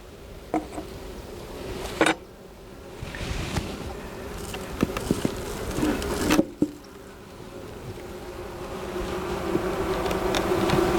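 Honey bees drone steadily around an opened hive with a laying three-year-old white-marked queen, a low continuous buzz broken by a few sharp knocks and clatters of frames or hive parts.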